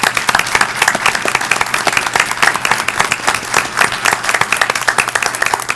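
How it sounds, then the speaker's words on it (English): Round of applause for city workers at a city council meeting, many hands clapping steadily and fairly loud for about six seconds, with no talking over it. "If everybody would join me in giving a round of applause to the city workers"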